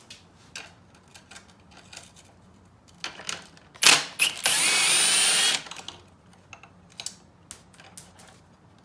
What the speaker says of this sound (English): so we'll grab a wrench